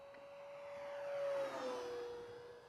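An FMS P-47 1500mm RC plane flying at full throttle on a vertical climb in a snowstorm, a thin steady motor whine that swells as it passes close and then bends lower in pitch as it pulls away, fairly faint.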